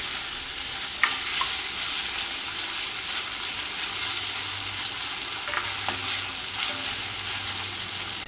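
Onions sauté in a pan for a simple potato curry, sending up a loud, even, hissing sizzle that holds steady throughout, with a few light spatula taps and scrapes, close up and free of speech.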